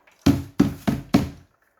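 Four sharp, hollow knocks in quick succession as a spent coffee puck is banged out of the portafilter of a VBM Domobar Super Electronic espresso machine, close and loud with no talk.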